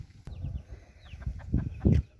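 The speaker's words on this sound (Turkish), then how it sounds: "tavuk sesi duyduk" Chickens clucking in short bursts, a few soft calls then louder clucks near the end, fairly close, with faint birdsong in the background.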